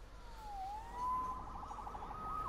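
A distant police siren in the Marvel's Spider-Man video game wails with rising and falling sweeps over a faint city ambience, heard alone without speech.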